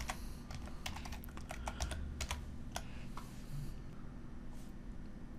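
Quick bursts of typing on a computer keyboard, close and fairly quiet, with clusters of crisp key clicks separated by short pauses.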